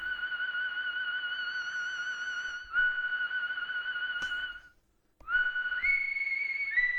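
Synth whistle patch on a Casio CZ-1 Mini: a steady, pure whistling tone with slight detune and gentle vibrato, briefly dipping to silence near the end before resuming with a pitch step upward.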